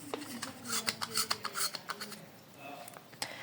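Philips tubular incandescent bulb being fitted into its socket, a quick series of close scraping, rubbing and clicking contact noises, faint, with a short pause before a final click.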